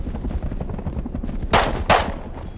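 Two sharp, loud bursts of gunfire in a multiplayer shooter game ring out in quick succession, cutting through a quieter stretch of low rumbling background noise.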